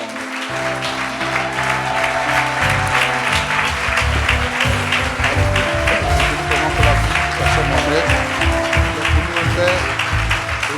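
A church congregation applauds to praise God for the life of their pastor. The clapping is sustained and dense, running for the whole stretch over music and a voice.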